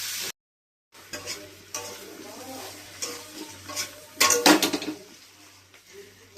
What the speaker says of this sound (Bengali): এক হাতে ক্যামেরা ধরে এক হাতে খুন্তি নাড়াটা খুব ডিফিকাল্ট